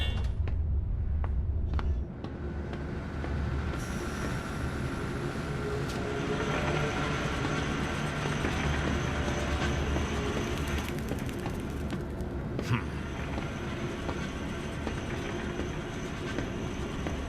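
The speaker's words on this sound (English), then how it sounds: "Now activate the lever to lower the gadget trolley." Gadget trolley rolling on rails in the Zoochosis video game, a steady loud rumbling clatter of wheels on track running throughout, with a brief quieter start and a few sharp clanks and hisses along the way.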